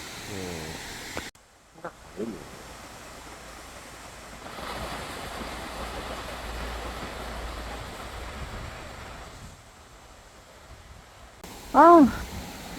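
A waterfall at a campground park in Geunnam-myeon, Cheorwon, gives a steady rushing roar that swells in the middle. A brief voice cuts in near the end.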